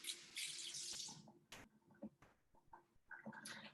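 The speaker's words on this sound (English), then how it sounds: "Let me just wash my hands again." Water runs from a kitchen tap as hands are washed beneath it, a steady close splash for about a second and a half, then brief scattered drips and clatter.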